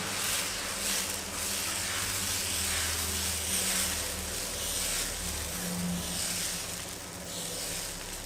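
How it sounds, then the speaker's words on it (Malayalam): Dosa batter ladled into the centre of a hot pan and spread out for a ghee roast dosa, giving a steady close hiss and gentle sizzle that continues evenly throughout. "ഇനി നമ്മൾ തയ്യാറാക്കിയ ബാറ്ററിൽ നിന്നും ഒരു തവി മാവ് കോരി സെൻറ്ററിലായി ഒഴിച്ചതിന് ശേഷം പരത്തി കൊടുക്കണം."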